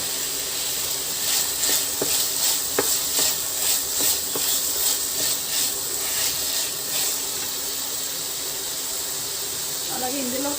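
Soaked cashews go into a hot pan for a Punjabi-style green peas masala, bringing a steady close sizzle with faint stirring taps, and a voice briefly speaks near the end.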